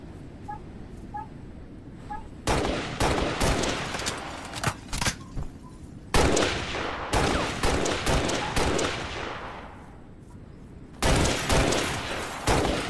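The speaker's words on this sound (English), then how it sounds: "Somebody's shooting." Bursts of rapid gunfire ring out in a Halo video game, loud repeated volleys broken by brief pauses and a few single shots, with no talk over it.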